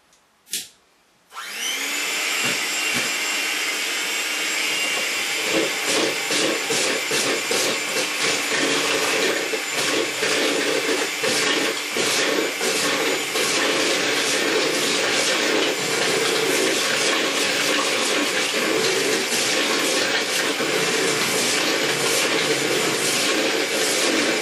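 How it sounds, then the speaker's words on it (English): An electric blender whirs up to speed and runs continuously, loud and steady with a high whining hiss, mixing egg, milk and vanilla for a coconut and rice boilie fishing bait. "Now I'm going to get my blender."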